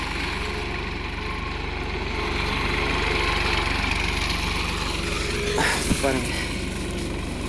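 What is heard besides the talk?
tractor engine running while threshing urad dal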